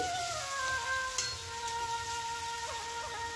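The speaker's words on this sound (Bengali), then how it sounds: "তো মশলাটাকে আমি ভালো মতো কষিয়ে নিচ্ছি।" Spice paste of cumin, coriander, whole tomato, chopped capsicum and bay leaves frying in a pan, a steady soft sizzle running continuously with faint tones from elsewhere in the kitchen.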